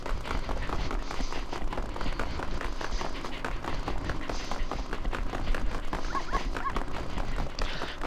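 Pack of dogs running past in the Wii Fit Plus aerobics island run, a dense, steady patter of many quick footfalls that stays loud and busy throughout, with a few faint high chimes near the end.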